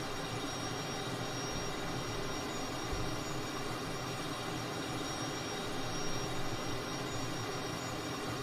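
An F-100 jet engine roars in Microsoft Flight Simulator as a constant, dense, loud whine and rumble holding steady throughout.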